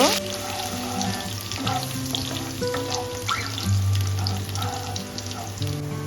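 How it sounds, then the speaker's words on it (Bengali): Cashew nuts with chopped ginger frying in a pan of hot oil give a steady, continuous sizzle up close, alone without talk for the whole stretch. "এখানে কাজু বাদাম নিয়ে নিয়েছি কাজু বাদামটা একটু ভেজে নেব"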